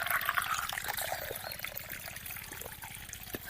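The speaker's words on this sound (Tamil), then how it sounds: "கையிலேயே தண்ணி அடிச்சு குடிச்சுக்கலாங்க" Water gushes from a hand-operated tube-well pump in a steady, fairly loud pour with a rhythmic pulsing underneath, heard up close with no talking.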